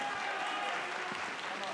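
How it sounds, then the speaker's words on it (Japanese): A crowd claps steadily and loudly at a RISE kickboxing event in Japan, a dense wash of applause filling the hall throughout. "今一度盛大な拍手をお願いします"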